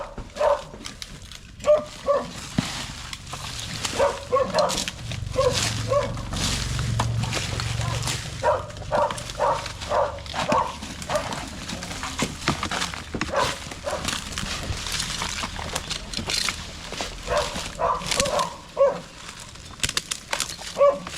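A dog barks and whimpers in short repeated yelps and cries, fairly close and loud, with voices talking intermittently over the sound.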